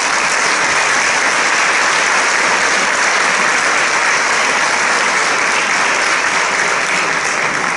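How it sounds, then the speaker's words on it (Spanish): A large audience at a gala opening cancer-awareness days in Abarán gives a loud, dense, continuous round of applause for a man taking the stage, holding unbroken and evenly for the full stretch. "Un fuerte aplauso."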